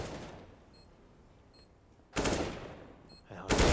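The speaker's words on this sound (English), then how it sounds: "Nice little tapping headshot" Gunfire in Counter-Strike on the Overpass map during a bomb-site retake, two sharp loud bursts of shots cutting in late after a stretch of quiet game ambience.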